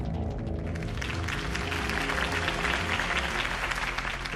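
Crowd applause follows a campaign speech for Harvey Dent in the Batman Telltale video game, a dense, sustained clapping that holds steady throughout.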